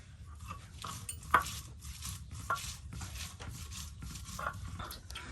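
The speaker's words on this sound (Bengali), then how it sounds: "এই যে দেখুন এই যে কিন্তু সুন্দর করে সব কিছু এই যে বেটে নিচ্ছে" Onion and garlic being ground into paste on a grinding stone for village cooking, a steady close scraping and rubbing with occasional sharp knocks of stone on stone, alone without talk.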